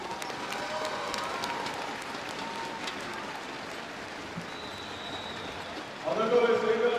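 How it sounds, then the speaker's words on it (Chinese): An audience at the Shanghai 2024 FISU World University Futsal women's final applauds Portugal's team, a steady rain-like patter of clapping that fills the hall before a voice rises near the end. "也要把掌声送给葡萄牙队。"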